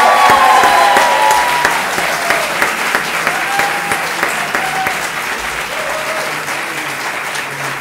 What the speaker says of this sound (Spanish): Un aplauso especial para Adrià